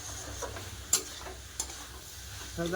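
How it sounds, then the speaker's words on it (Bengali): Spinach with turmeric powder being sautéed in a pan, with a soft, low sizzle and a couple of sharp spoon knocks against the pan, no talking. "হলদি গুঁড়ো ভালো করে কষে নেবো"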